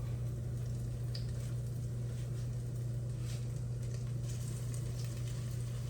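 Zucchini cheesy pancake batter with onions sizzling in hot oil in a pan, a steady close crackling fry that holds evenly throughout without talk.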